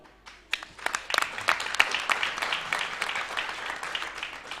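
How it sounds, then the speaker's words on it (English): Applause from the audience at a business model competition for sustainability goals builds quickly from scattered claps into a steady wash of clapping that continues to the end, moderately loud and fairly close. "Ladies and gentlemen, let's give round of applause to everyone."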